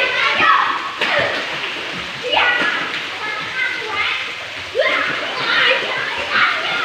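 Children splash and shout while swimming and playing in a pool, with bursts of water sloshing and excited kids' voices overlapping throughout, close and lively.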